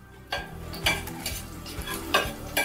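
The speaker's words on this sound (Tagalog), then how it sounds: "So yung bawang ay lulutuin natin, ano? Yung parang brown siya." Garlic browning in a hot pan with steady frying sizzle, broken by a few louder scrapes and clinks as a utensil stirs it; no voices.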